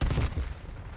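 Video-game sniper fire arrives as a heavy, close burst of gunfire with a booming low-end thump, quickly trailing off into rumble within about a second.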